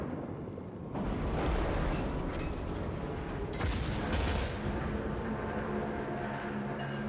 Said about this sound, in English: At the moment we are firing HE at him